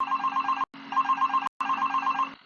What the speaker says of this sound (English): A phone call that's not answered.